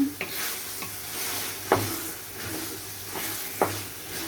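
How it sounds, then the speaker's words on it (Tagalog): Tomatoes sautéing in a pan, a faint steady sizzle with a few light stirring scrapes and utensil knocks spread through, no talk over it. "mga limang minuto din na paggisa nitong kamatis"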